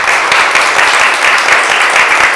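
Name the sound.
audience applause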